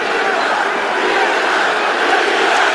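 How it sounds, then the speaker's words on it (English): A UFC arena crowd at the McGregor vs Diaz 2 fight roars continuously and loudly, chanting for Diaz as a dense, sustained wall of voices. "the chants of Diaz ring through the crowd"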